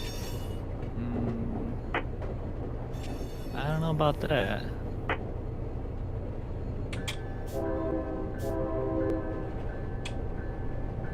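A BNSF eastbound freight train from Los Angeles rumbles in the Run 8 train simulator, with a steady low drone, brief horn blasts and squeals, and someone talking over it.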